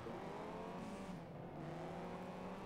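Renault Clio engine racing in the Juiced video game, a steady droning engine tone with a slow pitch shift, racing noise and a faint tire squeal running continuously, without voices.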